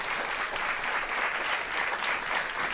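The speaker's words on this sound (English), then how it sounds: "Please give him a round of applause." An audience applauds a guest, Cary Fowler, who helped found the Svalbard Global Seed Vault, with steady, dense clapping that fills the room at an even level throughout.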